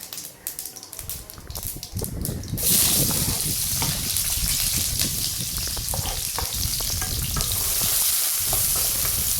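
Two medium onions dropped into hot oil with popped mustard and fennel seeds, bursting into a loud, steady close sizzle, with stirring scrapes throughout and no talking.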